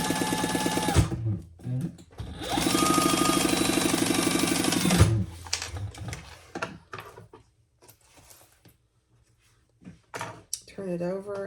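A sewing machine runs in two bursts, a short one and then a longer steady whirring stretch, basting layers of bag fabric, with a voice talking afterward.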